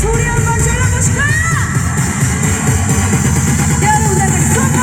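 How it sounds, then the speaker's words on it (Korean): A packed autumn festival crowd at an outdoor concert in Munseong-dong shouts and cheers loudly and continuously. Their voices are mixed with pounding stage music and occasional whoops. "여러분 다 같이 소리 한번 질러보실까요?"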